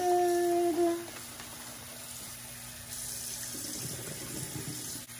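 Tap water runs into a sink while raw shrimp are rinsed for a home seafood boil. A strong stream gushes at first, then settles into a steadier, softer flow with no talking.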